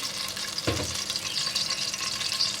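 Almonds drop into hot ghee in a pan for zarda and start frying, giving a sudden soft splash and then a steady close sizzle that carries on without any talking.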